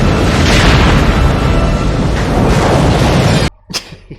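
A loud, sustained explosion from the action film Payback, a dense roaring blast that fills about three and a half seconds and then cuts off abruptly, leaving a few faint rumbling aftershocks.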